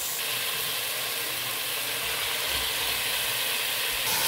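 Mutton pieces go into a pan of softened tomato masala with salt for a birthday mutton curry, giving a steady, loud hiss and sizzle that runs unbroken throughout, with no talk.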